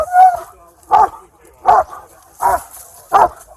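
A police K9 dog barks five times at a steady, evenly spaced rhythm, loud and close, with little else around it.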